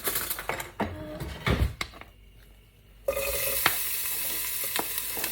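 Food sizzles in hot extra virgin olive oil in a pan, with spoon clinks and stirring scrapes up front, a brief quieter gap, then a steady loud crackling fry close by, no talking.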